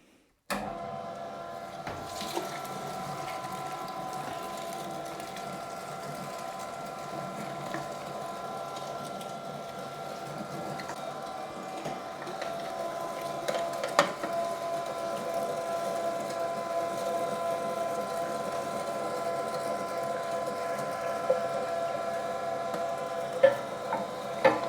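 Meat grinder working through chorizo verde sausage meat, a steady mechanical hum with faint whirring tones and occasional clicks, moderately quiet and continuous with no talking.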